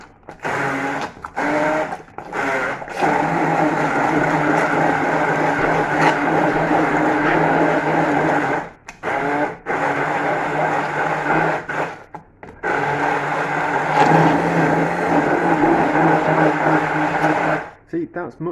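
A kitchen blender purees onions and tinned tomatoes in several long loud whirring bursts separated by brief pauses, the motor note steady and close throughout.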